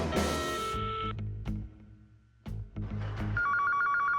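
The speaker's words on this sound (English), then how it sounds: "I got a phone. Let's give him a ring." A cartoon telephone rings loudly in repeated bursts, with a few short clunks and thumps between the rings and a steady electronic trill toward the end.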